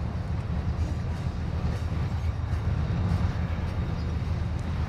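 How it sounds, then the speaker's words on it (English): Train rolling along in Call of Duty Modern Warfare II DMZ, a continuous low rumbling roar with heavy bass that holds steady and fairly loud throughout, without any speech. "I think he's moving on a train."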